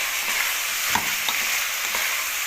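Shrimp soup base sizzles in a pot while being stirred after black pepper and cumin go in, a steady close frying hiss with a few soft scraping knocks and no talking.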